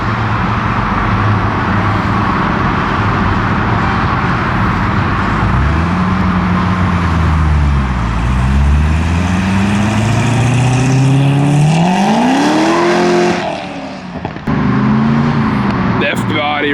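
Modified F-body muscle cars rolling out at a Texas car show, a close engine rumble that rises and falls with revving, pitch sweeping up as one accelerates away, with people talking over it.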